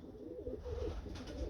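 Mixed-breed pigeons coo softly and low, a faint muffled murmur with a quiet hiss in the background.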